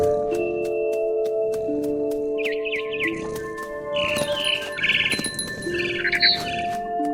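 Mama bird chirping in What Remains of Edith Finch, heard as bursts of rapid high chirps and squawks over a sustained musical score with steady tones and plucked notes, the calls clustering and growing busier midway.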